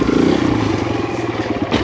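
Kawasaki KLX140RF dirt bike engine revving hard during a wheelie attempt, a loud close buzzing roar that surges at the start, then holds a rough mid-pitched drone with some clatter.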